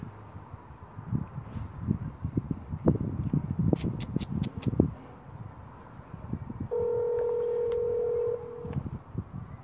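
A telephone number being dialed, a quick series of short keypad tones, followed by a longer steady tone, with rustling and handling noise around them and no talk.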